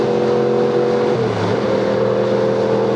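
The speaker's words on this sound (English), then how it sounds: "let me get in like 6 gears so I can quiet this bike down" A motorcycle engine drones steadily at cruising speed, its pitch dropping as the rider shifts up into sixth gear, then holding a lower, smoother hum with wind noise around it.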